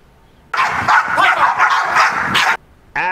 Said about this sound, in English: you hear a lot of barking and talking.